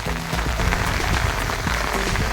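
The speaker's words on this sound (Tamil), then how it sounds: "இங்கே சரியான மழை பெஞ்சிட்டு இருக்குது" Light drizzling rain falls over a tea plantation in Vagamon, a steady, dense hiss of soft patter that stays even and close throughout, with no voices.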